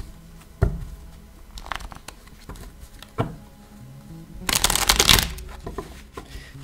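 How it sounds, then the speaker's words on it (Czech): Tarot cards shuffled by hand at close range, a rapid riffling patter that swells into a loud dense burst midway before trailing off, with no talk. "Ještě mi tady chodí víc zamíchat karty, jak nahoře, tak dole"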